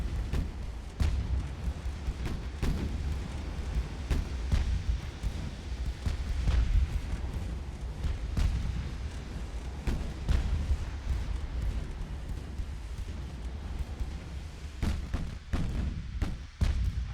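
Naval gun salvos in the warship game Ultimate Admiral: Dreadnoughts, with ships fighting within about five kilometres: repeated heavy booming shots land at irregular intervals over a constant low rumble of sea and engines.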